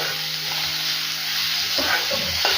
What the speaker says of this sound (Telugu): ఉల్లిపాయలు కూడా యాడ్ చేసేసుకొని బాగా ఫ్రై చేసుకోవాలి